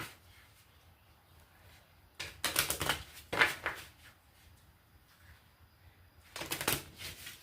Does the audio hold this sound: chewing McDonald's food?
no